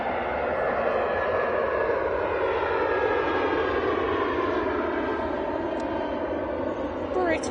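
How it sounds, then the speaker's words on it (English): A British Airways A320 airliner descends overhead, its engine drone a steady, broad whine with slowly shifting tones, moderately loud and continuous for several seconds. "British Airways A320 on the way back down to London Heathrow"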